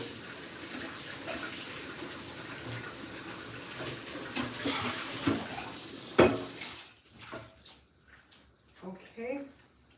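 Tap water runs into a pan as it is rinsed of leftover flour, a steady splashing rush with clanks of the metal pan, then the flow stops and a few drips and knocks follow.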